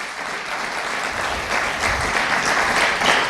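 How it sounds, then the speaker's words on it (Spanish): A church congregation claps steadily in continuous applause at moderate loudness, with no voices over it. "Denle un aplauso al Señor"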